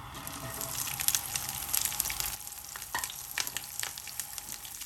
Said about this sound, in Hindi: बिल्कुल हल्की आंच पे इनको हम फ्राई करेंगे।